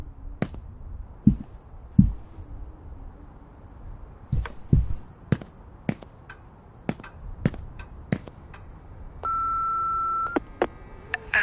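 An answering machine in the horror video game Remothered Broken Porcelain gives one long, steady electronic beep toward the end, after a stretch of scattered sharp knocks and clicks in a quiet room.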